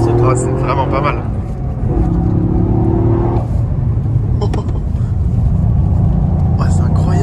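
A Toyota GR Yaris turbo engine pulls hard, a loud, close, steady drone with rising harmonic tones heard from inside the car while occupants talk over it.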